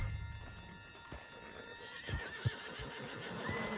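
A horse in the Red Dead Redemption 2 video game whinnies and clip-clops as it is ridden, with hoofbeats thudding in an uneven rhythm and a short neigh over faint background ambience.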